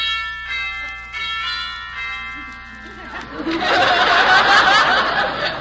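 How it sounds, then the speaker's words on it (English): A doorbell at a house on a 1947 radio comedy show chimes with ringing tones that fade, then a studio audience breaks into laughter. "Might as well ring Hubert's bell here."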